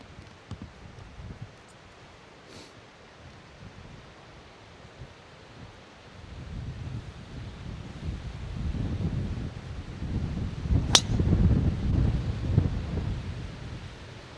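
Strong gusty wind blows across an open golf course, buffeting the microphone with low rumbling surges that build and swell in the second half, with a faint brief tick of sound near the end.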